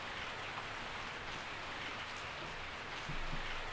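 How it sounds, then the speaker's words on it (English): Rain falling in the video game Resident Evil 3: Nemesis, a dense, even hiss of steady downpour lasting throughout with no voices. "I woke up to the sound of falling rain."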